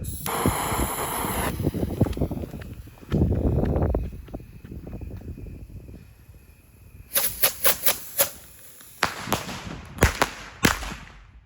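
Phantom and Black Cat fireworks burst low in the air outdoors, a string of sharp loud reports in quick irregular succession after a stretch of wind noise and rustling.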